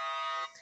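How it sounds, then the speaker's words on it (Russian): An alarm goes off during a video game, a loud, steady electronic tone held for about half a second before it drops away. "Сигнализация?"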